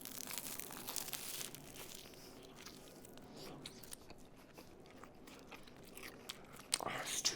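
Close, crisp bites and crunchy chewing of a sausage sandwich on bread toasted under the broiler with leftover pan fat, with crinkling and tearing sounds in between.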